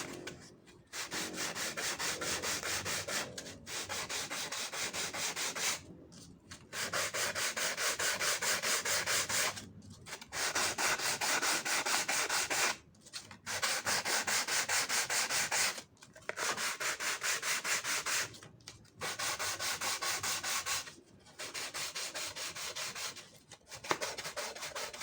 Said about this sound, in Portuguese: Aqui eu estou lixando um dos lados de cada uma das águas do telhado para que o encaixe fique certinho.